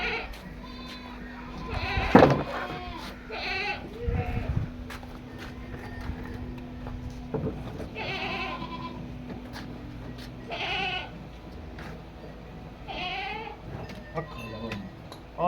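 Goats bleat on a farm where cattle and buffalo are kept, several calls scattered across the scene amid hooves and background farm noise, with people talking throughout.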